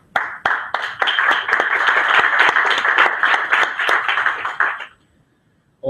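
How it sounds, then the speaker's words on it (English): An audience claps steadily for a speaker at a conference session, a dense burst of many hands lasting about five seconds before cutting to near silence. "An applause for Mr. Kalpias."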